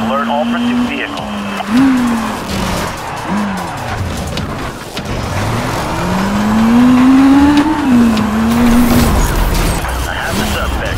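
Police car pursuit in the Need for Speed Rivals racing game: loud revving engines and sweeping tire squeals rise and fall through repeated skids, with a radio dispatcher voice talking over the chase.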